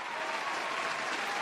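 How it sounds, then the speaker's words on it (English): A crowd gives a short, even burst of applause, dense clapping with no voices. "let me give a round of applause to the Denver Broncos here"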